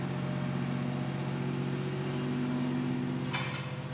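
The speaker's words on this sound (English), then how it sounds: "I believe the manufacturer's specs was 3/4 throttle on the forklift." A forklift engine runs at three-quarter throttle while pulling a truck frame, a steady mid-pitched drone with a faint whine, ending with a short metallic clank near the end.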